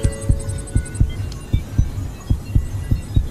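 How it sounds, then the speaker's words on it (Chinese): A heartbeat sound effect from a Chinese drama thumps steadily in paired low beats, about two per second, loud and close over a faint humming drone, with no speech. "心跳"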